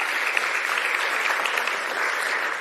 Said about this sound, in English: giving a round of applause to Jamila